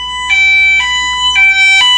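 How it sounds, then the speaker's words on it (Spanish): An SOS panic button alarm on a senior safety device sounds loudly up close: a shrill electronic tone pulsing in repeated bursts, about four in two seconds, with no voices. "está sonando una alarma"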